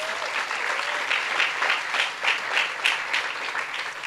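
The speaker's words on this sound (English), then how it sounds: "Let's give him another round of applause." A crowd at a groundbreaking ceremony applauds steadily for several seconds, a dense wash of clapping with small swells, heard on its own without anyone talking.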